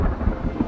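Deep rolling thunder from a looming storm rumbles loudly and close, a short low roar with no voices.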